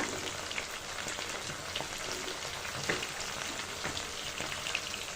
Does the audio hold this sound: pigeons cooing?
no